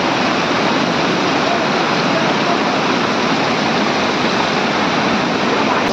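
Loud, steady roar of a swollen river's rushing floodwater during heavy monsoon rain, a dense continuous wash of noise with no breaks, close by.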